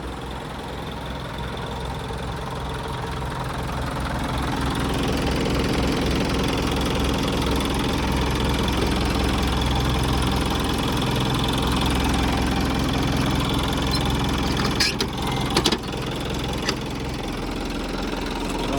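A 2008 Isuzu NKR 130 truck engine idles steadily with a low, even rumble that swells slightly after a few seconds and holds, with a couple of brief knocks near the end and no talking.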